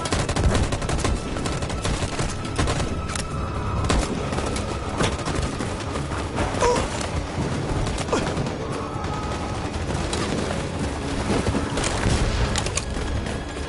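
Dense gunfire volley in the video game Detroit: Become Human, with rapid overlapping shots and bursts forming a continuous loud crackling barrage throughout, no voices over it.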